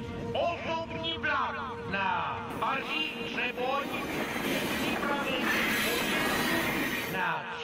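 A train rumbles and clatters at a main railway station in an animated cartoon, with loud mechanical rolling noise under several overlapping voices.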